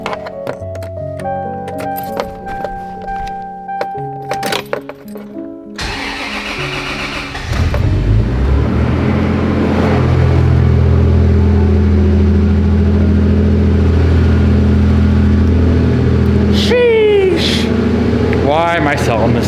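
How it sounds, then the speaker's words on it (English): A right-hand-drive car's engine cold-starts: whirring and clicks give way to a loud catch, then a steady, rough, high idle that holds close and dominant while a voice talks over it near the end. "let's do one last cold start for the boys"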